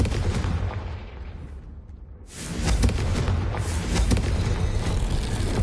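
A Confringo blasting spell explodes in Hogwarts Legacy, a loud sustained rumbling blast that dips briefly and then surges again into a booming, crackling roar.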